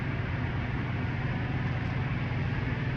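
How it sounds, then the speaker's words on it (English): Continuous low engine rumble and idling diesel drone of trucks fill the air at the world's largest truck stop on I-80, a steady broadband hum with no voices. "made it to the I-80 truck stop"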